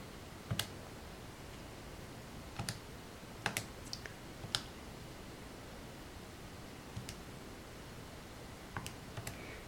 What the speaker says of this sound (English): you're just going to type it into your calculator